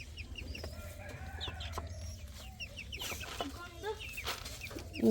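Several chickens cluck and chatter nearby in short bursts, with a rooster's crow and a steady low background hum.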